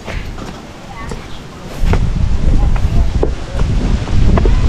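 Wind gusts roar across the microphone in a rough, low rumble, growing louder after the first couple of seconds and staying strong.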